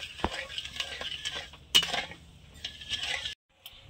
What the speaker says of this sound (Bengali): দিয়ে একটু ভালো করে আমি চিনিটা গুলিয়ে নেবো নাড়িয়ে